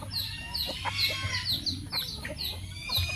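Chickens cluck and chatter continuously, with several birds calling over a low, steady background hum.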